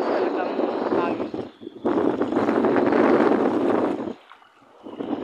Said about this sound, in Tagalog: Walang gaano nga mangingisda ngayon mga idol kasi yung malakas talagang hangin.